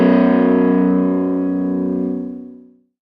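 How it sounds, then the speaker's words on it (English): A distorted electric guitar power chord rings out once, loud and close, then sustains with a growling tone and fades to silence. "those are my favorite power chords"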